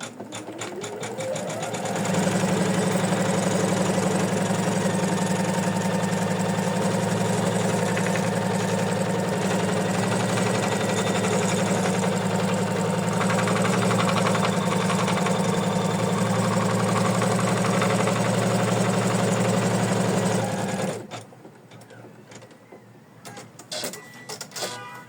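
An embroidery machine stitches felt applique onto an in-the-hoop felt heart, producing a loud, continuous rhythmic whirring hum for about twenty seconds before stopping abruptly, leaving faint clicks and handling noises.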